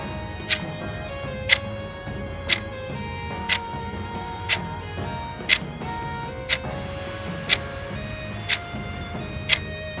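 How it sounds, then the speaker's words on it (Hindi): A wall clock ticking steadily, one sharp tick roughly every second for the whole stretch, over a faint musical background with no voices. "इसका आंसर है घड़ी, जो टिक टिक करती है"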